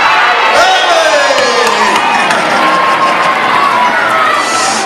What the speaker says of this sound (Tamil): எல்லாரும் சேர்ந்து ஒரு கூச்சல்